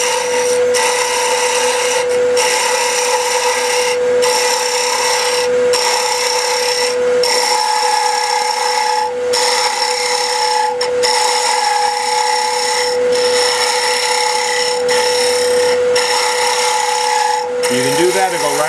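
A wood lathe spins a pen blank at 3,000 RPM with a steady, loud high-pitched whine and a tool rasping against the wood in rhythmic passes, continuing unbroken from start to finish.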